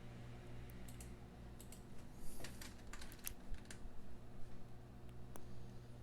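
Scattered keystrokes on a computer keyboard, sparse clicks and a short cluster of taps over a steady low hum, quiet and close.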